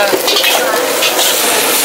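Singapore-style fried rice sizzles and crackles loudly in a hot pan while a utensil scrapes and stirs it, close and continuous.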